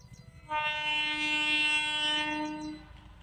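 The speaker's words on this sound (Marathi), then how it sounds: "एकदाची रेल्वे आली बघा, वाजा लागली आधी" A train passes near a rural village and sounds a long, loud, steady horn blast of about two seconds over a low rumble.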